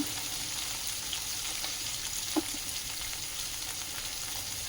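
Chopped paneer fries in a little oil in a pan, giving a steady, soft sizzle throughout with one faint stir or clink partway through and no talking.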